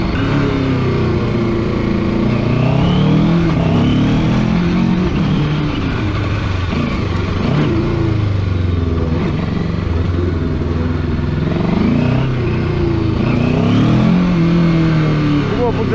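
A JEDI K750 motorcycle engine drones and revs continuously on a test ride, rising and falling in pitch with the throttle, loud and close, with some talk mixed in.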